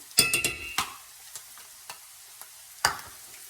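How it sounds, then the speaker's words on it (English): Six ounces of tomato paste being stirred into cooking vegetables in a pan: a quick cluster of sharp scraping strokes, then a few sparse single scrapes and a final firm scrape, close up with no speech. "And then continue to stir."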